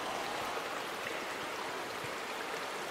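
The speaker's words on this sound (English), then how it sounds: "I heard the water over here. It's being drained." Water draining from a water pump in the video game Lifeling, a steady broadband rush like a stream running continuously at even loudness, with no talk over it.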